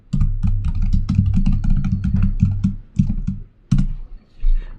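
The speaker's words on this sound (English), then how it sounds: "at the prompt, type git config -- global user name" Fast, close clacking of a computer keyboard as a git config command is typed, keystrokes in a dense irregular run with a low hum underneath, slowing to a few final taps, no talking.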